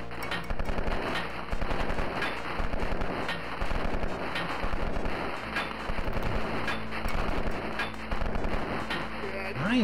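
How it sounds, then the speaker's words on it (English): Dense, loud gunfire from Eisenfaust Origins Remastered, a video game, rattles almost nonstop as rapid bursts of shots aimed at the player, with no pauses across the whole stretch. "Where the heck is that other guy shooting me from?"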